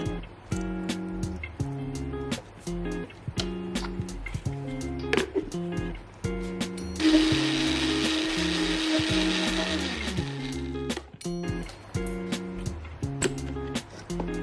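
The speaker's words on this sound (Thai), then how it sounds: "หลังจากนั้นก็คือนำไปปั่นค่ะ ถ้าปั่นยากก็สามารถเติมน้ำได้เล็กน้อย" An electric blender pulsing aloe vera flesh and ivy gourd leaves, with repeated loud motor bursts in a choppy stop-start rhythm and one longer sustained whirring run in the middle, close up with no talk.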